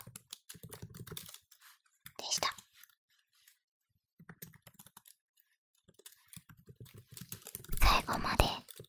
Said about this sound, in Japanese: ささやきながらタイピング